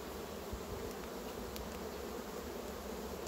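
Honey bees swarm and buzz over an open hive of a red-queen Buckfast colony, a dense, steady drone that holds close and unbroken throughout with no voices.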